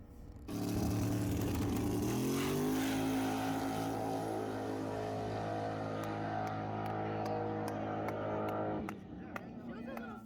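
A drag racing car makes a pass at Lubbock Dragway, its engine roaring in from quiet, rising in pitch through the run and then fading, with faint ticking afterward.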